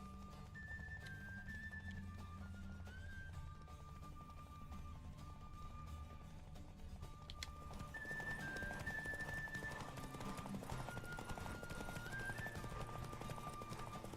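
Rhythmic hoofbeats of a galloping horse in The Witcher 3 Enhanced Edition pound steadily under a continuous game soundtrack, with a brief whinny partway through.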